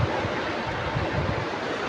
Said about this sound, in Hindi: पानी आ रहा है बहुत ही तेज़, अभी जा रहा है, इतना तेज़ आ रहा है